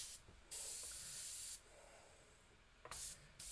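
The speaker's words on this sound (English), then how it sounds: "I'm going to airbrush some of these wrinkles" Quiet airbrush spraying paint in short bursts, each a soft airy hiss that starts and stops abruptly, with a long burst early on and two brief ones near the end.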